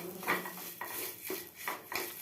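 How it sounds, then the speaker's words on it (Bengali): A few metal scrapes of a spatula against a kadai come as food is stirred during frying. The strokes are close and fairly soft, spaced about half a second apart, with no voices. "আমি যেভাবে খুন্তি নেড়ে নেড়ে করছি ভাজাটা"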